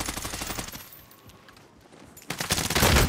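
Rapid automatic gunfire in a battle royale game crackles loudly in sustained bursts, pausing briefly before another heavy volley.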